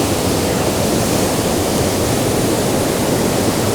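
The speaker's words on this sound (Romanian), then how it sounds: "Sper că ne auzim de gălăgia făcută de cascadă." The Tännforsen waterfall in Sweden roars as a loud, steady, broadband rush of falling water that stays close and unbroken throughout, with no voices.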